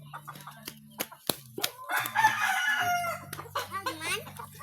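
Pet rooster crowing close by, one long call rising over a low steady hum, with brief clucks and shuffling before and after while people talk about holding the chickens for a photo.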